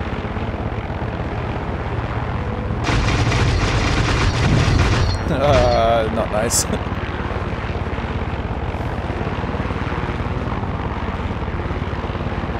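Helicopter in the video game Far Cry 6, a loud steady rotor and engine roar running throughout, swelling with a heavier burst midway, with a short remark spoken over it.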